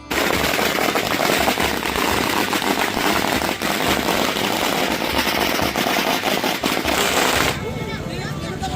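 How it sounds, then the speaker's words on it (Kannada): Villagers set off a long, dense chain of firecrackers for a Diwali welcome, a loud continuous crackling barrage of rapid pops that stops abruptly near the end. "ಗ್ರಾಮಸ್ಥರು ಪಟಾಕಿ ಸಿಡಿಸಿ ಭಕ್ತಿಪೂರ್ವಕವಾಗಿ ಸ್ವಾಗತಿಸಿದರು"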